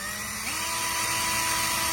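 A BKK 85V cordless impact drill spinning freely with a steady high electric whine that rises slightly in pitch as it speeds up, close and continuous for two seconds.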